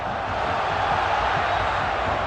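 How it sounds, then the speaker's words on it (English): A Premier League stadium crowd at Manchester United versus Sheffield Wednesday urges the home side on near full time, a steady, dense roar of thousands of voices with no clear breaks. "Crowd urging Manchester United to find another goal before the full-time whistle."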